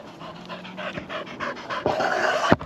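A dog pants steadily and rapidly at close range, with quick rhythmic breaths and a brief louder burst near the end; no talking.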